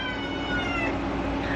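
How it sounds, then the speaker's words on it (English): Cats yowl and cry in a sustained, wavering caterwaul as they square off nearby, loud and close with no talking over them. "So if you hear the crying, that's from the cats."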